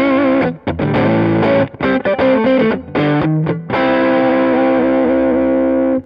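Duesenberg electric guitar with a spruce top and center block, played through the neck Domino P90 pickup with some distortion and effects, ringing chords and short choppy strums followed by a long sustained chord, loud with no talking.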